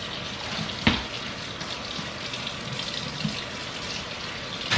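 Hot water at its hottest setting gushes steadily into a bathtub, a continuous close splashing rush with one brief knock early on and no voices.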